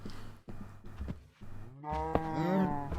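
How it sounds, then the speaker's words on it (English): Cows in a modded Minecraft Skyblock game give one long, close, drawn-out moo after a few soft clicks and shuffles. "Too many cows just there."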